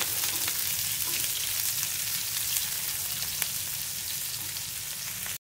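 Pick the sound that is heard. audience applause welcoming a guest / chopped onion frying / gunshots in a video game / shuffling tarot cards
chopped onion frying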